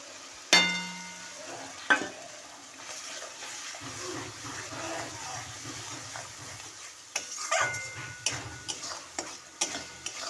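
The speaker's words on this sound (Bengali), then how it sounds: "ভালো করে আমি সব মিশিয়ে নিচ্ছি।" Spices sizzle and crackle in a hot pan with fried onion as a utensil stirs and scrapes, with sharp clinks now and then.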